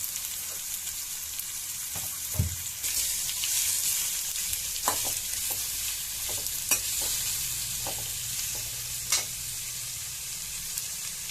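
Chopped onion and green chili sautéing in a pan, a steady close sizzle with scattered clinks and scrapes of a spoon stirring, no voices.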